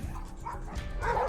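Dogs yip and bark in short, whimpering bursts, close and fairly loud, with faint voices underneath.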